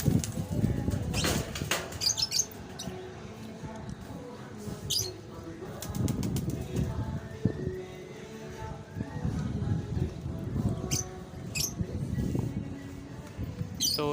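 Pigeons flutter and flap their wings in bursts, with cooing and a few chirps, while people talk nearby throughout.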